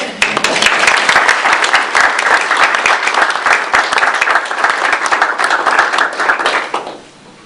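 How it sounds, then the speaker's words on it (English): An audience at a naming ceremony gives a loud, close round of applause, dense overlapping claps sustained for about seven seconds before quickly dying away. "give them a round of applause"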